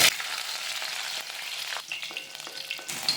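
Sliced green chilli frying in hot oil with mustard seeds, a steady close bright sizzle and crackle with a few small pops and stirring clinks.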